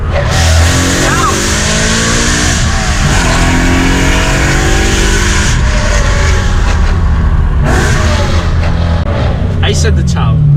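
BMW M3 fitted with an Armytrix aftermarket exhaust, revving loudly and continuously at close range with rising and falling engine pitch, a voice briefly audible over the roar.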